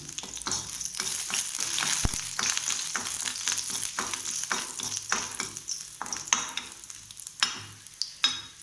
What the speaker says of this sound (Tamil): பூண்டு 4 பல், இதே லைட்டாக பச்சை வாசனை போகிற வரையும் வதக்கிக்கலாம்.